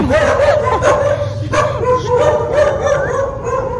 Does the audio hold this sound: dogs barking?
yes